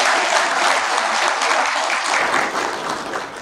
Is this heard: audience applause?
yes